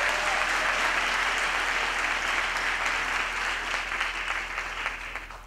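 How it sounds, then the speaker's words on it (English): A graduation ceremony audience at a university main campus applauds grandparents with sustained, even clapping from a large hall crowd that tapers off slightly toward the end, with no talk over it. "So can we give them a round of applause"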